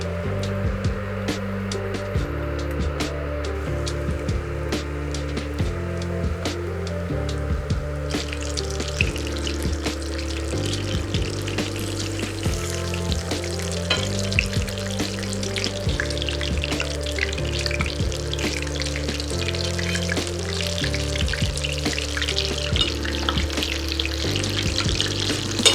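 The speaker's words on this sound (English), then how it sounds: "Let's fry." Fish fries in oil at 350 degrees with a continuous bubbling sizzle, close and steady, growing a little brighter partway through, with a low background hum underneath and no talking.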